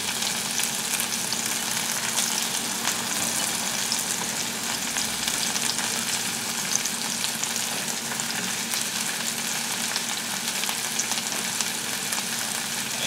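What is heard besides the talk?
mushrooms frying in a pan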